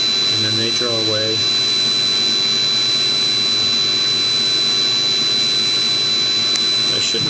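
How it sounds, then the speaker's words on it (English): A Swiss lathe knurls bar stock as the knurl wheels contact and spin, giving a loud, steady high machine whine with a constant hum throughout, plus a short whirring burst early on. "it contacts the knurl. You see the wheels begin to spin and the stock advances a little bit through the knurls."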